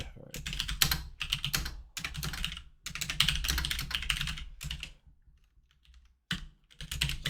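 Quiet typing on a computer keyboard comes in bursts of rapid, close clicks with short pauses between them. A soft voice speaks under part of it.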